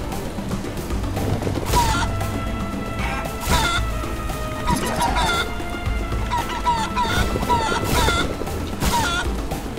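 Chickens in the video game Guacamelee 2 cluck and squawk repeatedly in loud bursts over busy game sounds and crashing hits, close and continuous with no talk.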